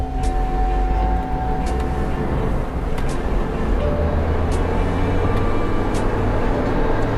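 Chevrolet Trailblazer 2.8 diesel, a 2014 LTZ 4WD, pulling away gently with a steady engine drone and road rumble heard from inside the cabin, loud and continuous throughout.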